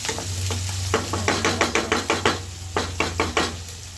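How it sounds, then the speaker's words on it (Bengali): Vegetables fry in a pan while a utensil stirs them. Steady sizzling runs under a quick series of sharp scraping and knocking strokes in an uneven rhythm, close and clear. "এ পাশে ভাজিগুলো একটু নাড়ে ছেড়ে দিতেছি যাতে প্রপারভাবে সব সাইডেরগুলো সিদ্ধ নিতে পারে"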